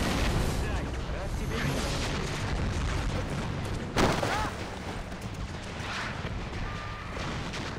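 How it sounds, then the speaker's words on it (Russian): A Far Cry 4 game scene with dense rumbling battle noise throughout and a sharper blast near the middle as something explodes in the destruction of a fortress, loud and continuous. "Сейчас рванет!"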